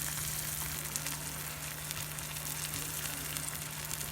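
Tomatoes with their juices, red wine and chopped parsley boil and reduce in a stovetop pan, giving a steady, close sizzling bubble that holds even throughout with no voices.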